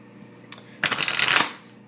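A new pocket-edition tarot deck is shuffled close by, a short quiet tap followed by a dense riffling burst that builds and fades within a second.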